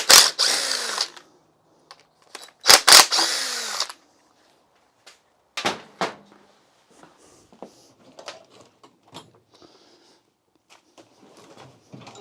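A power tool works bolts loose from a Mini Cooper engine during cylinder head removal: several short, loud whirring bursts, then scattered clicks, clanks and ratcheting sounds of metal parts nearby.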